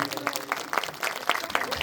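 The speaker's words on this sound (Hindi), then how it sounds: "एक बार मेरे जिंदा खुदा के लिए जोर से ताली बजाएं" A church congregation at a Christmas program in Himachal clapping loudly: brisk, dense applause of many hands, heard briefly at moderate distance.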